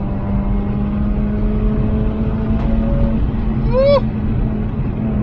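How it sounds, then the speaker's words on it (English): A Mazda RX-8 with an aftermarket sports exhaust cruises with a steady low exhaust hum from inside the car, joined near the end by a brief rising whoop of the engine. "As you can hear, it's got a sports exhaust on it as well"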